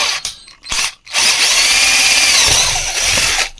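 A power drill whirs in short bursts, then runs steadily at high speed with a shrill whine, close by and loud, drilling out an old hole in a tabletop wet grinder during a bearing replacement.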